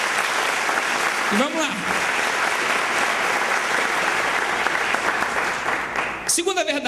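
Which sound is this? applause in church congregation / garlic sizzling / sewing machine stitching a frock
applause in church congregation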